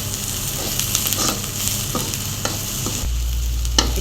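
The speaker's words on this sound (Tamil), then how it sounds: "இப்போ வெங்காயம் இந்த அளவுக்கு சின்ன வெங்காயத்தை நல்லா வதக்கிட்டோம்ப்பா." Small shallots sautéing in a pan for chicken varuval kulambu, a steady close sizzle with scraping stirs throughout, and a low hum joining in the last second.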